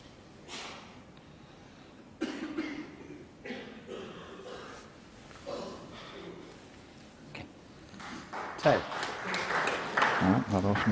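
Audience at a UK Championship snooker final between Ronnie O'Sullivan and Shaun Murphy applauding the respotting of a ball. A quiet room with murmurs and coughs is followed by a swell of clapping that builds under commentary toward the end.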